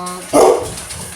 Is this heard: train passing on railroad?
no